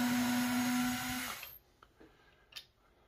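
A Ryobi USB lithium cordless screwdriver drives a long screw into solid wood: a steady, loud motor whine that cuts off after about a second and a half, followed by a few faint clicks and taps.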